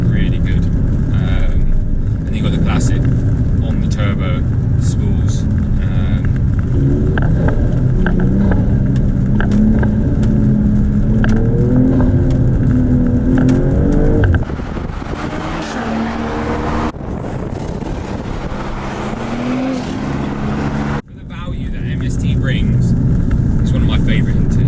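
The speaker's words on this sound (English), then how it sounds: "you've also got the intake doing a nice whoosh, which sounds really good." A BMW G42 M240i engine with an MST intake rumbles and revs under continuous talk, with a rising turbo whoosh and airy intake rush building midway before settling back.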